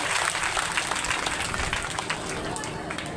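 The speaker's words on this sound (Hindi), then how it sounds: "इनके लिए आप सभी जोर से तालियों से स्वागत करेंगे" An audience at a live Hindu religious discourse (katha) claps in welcome, a dense, steady patter of many hands that lasts throughout with a voice over it.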